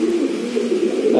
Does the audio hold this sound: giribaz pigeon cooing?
yes